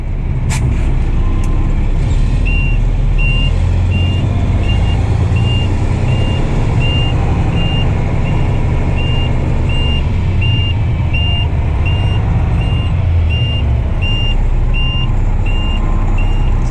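A truck backing up at Seminole Landfill sounds a steady, evenly spaced reversing beep over a loud, constant engine rumble, with no talking.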